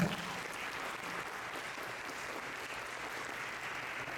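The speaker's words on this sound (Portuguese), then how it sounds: "eu gostaria que vocês a recebessem com uma salva de palmas, pessoal" Steady applause from an audience, a dense wash of clapping that holds at an even level throughout without voices.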